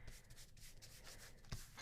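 Glued paper is rubbed by hand to smooth out air bubbles, making a soft, close, repeated scratchy swishing that is faint and continuous.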